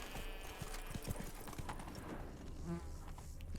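Roach, the horse in The Witcher 3, trots with faint rhythmic hoof clip-clops on the ground, quiet and steady, with soft ambient insect buzz around.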